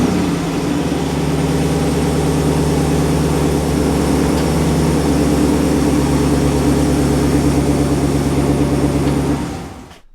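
A 2019 Ram Rebel pickup engine idles steadily and loudly close by, a constant low rumble with harmonic drone that holds for nearly ten seconds, then cuts off abruptly.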